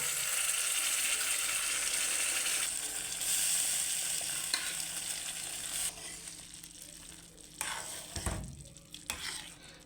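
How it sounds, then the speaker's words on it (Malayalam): Cooked dal is poured into a pan of tempering with coriander and curry leaves, then stirred as it simmers: a steady frying hiss with scraping stirs, thinning out in the last seconds. No one speaks. "വേവിച്ച് വെച്ചേക്കുന്ന പരിപ്പ് നമ്മൾ"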